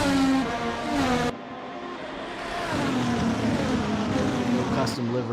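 Race cars lapping the Hungaroring in a racing video game, loud, whining engines with rising and falling pitch, cutting off abruptly and resuming, under a commentator's talk.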